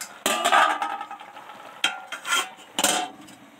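A lid is set on a pot of cooking radish greens, making several sharp metallic clanks and scrapes in short bursts, close by with quiet gaps between them.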